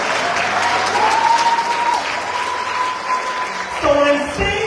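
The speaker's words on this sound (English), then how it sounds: "I'm waiting for the applause." Applause at an educational scholarship launch event: a steady wash of clapping from an audience that holds for several seconds, with a faint sustained tone running under it and a brief voice near the end.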